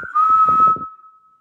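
A single steady whistled tone rings out in an old prison cell block, clear and sustained before fading away, with faint low knocking or footsteps beneath it.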